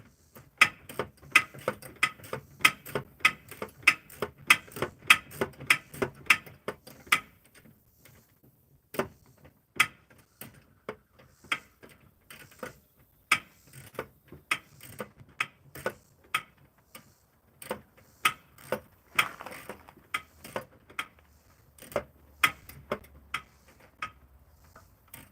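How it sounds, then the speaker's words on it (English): A ratchet clicks in short bursts of rapid ticks, close and fairly quiet, with brief pauses between strokes while bolts on car bucket seats are turned only an eighth of a turn at a time. "You can only get about an eighth of a turn on the ratchet."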